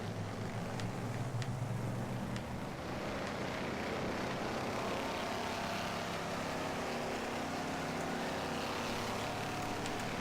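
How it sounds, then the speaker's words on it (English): A steady, droning roar of many car engines revving together at a race start in the video game Wreckfest, with a constant moderate drone and a few faint clicks over it, and no talking. "The engines all rev up and then they actually start and they barely move."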